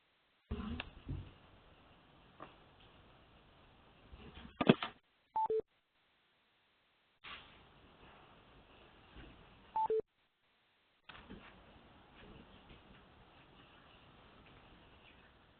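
Two brief telephone keypad tones sound, spaced several seconds apart, as # and 6 are pressed to unmute on a conference call line, over a steady low hiss of phone-line noise.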